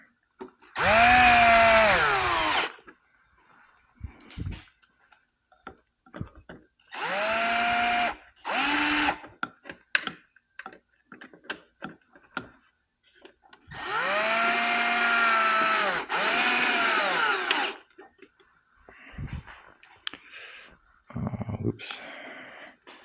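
A power drill drives the last two screws into a cover on a Razor GFD Rad Rod, loud close bursts of rising whine separated by pauses, with clicks and brief handling noises between.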